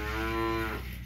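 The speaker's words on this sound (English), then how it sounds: "There's a couple of cows in here." A cow in a livestock trailer loaded with feeder cattle, calves and heifers gives one close, loud moo, a drawn-out low call that tapers off after under a second over a rumbling background.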